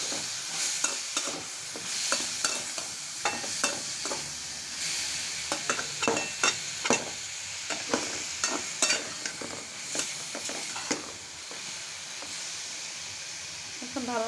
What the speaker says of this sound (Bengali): এখন ভালো মতো সবজিগুলি টমেটো ভেজে নেব।